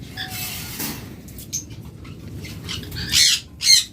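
Pet budgerigars and other caged birds at a bird sale, giving sharp squawks and chirps, with two loud close calls near the end over a quiet background.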